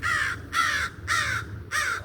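A crow caws four times overhead in a steady, evenly spaced series of loud, harsh calls, heard alone with no talking.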